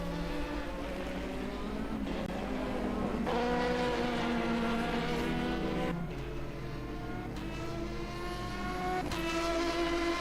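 A race car in a sim racing game howls at full throttle through fast corners, engine pitch climbing and dropping with gear shifts, loud and continuous without talk.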